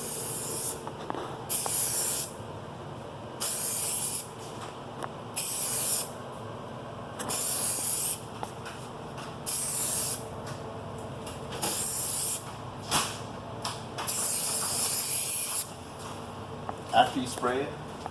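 Bursts of coating are sprayed onto a taped, sanded car headlight in a string of short hissing passes, each a second or two long with brief gaps between, close to the microphone.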